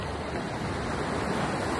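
Sea waves at Casapsapan Beach in Casiguran, Aurora make a steady, broad, soft wash of surf with light wind noise. The sound continues without a break and has no voices.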